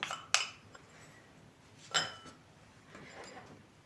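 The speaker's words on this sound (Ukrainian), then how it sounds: "Тепер беремо одну цибулю мариновану, висипаю." Pickled onion is tipped into a bowl for a layered festive salad, giving two sharp clinks against the dish followed by a soft, brief rustle, close and otherwise quiet.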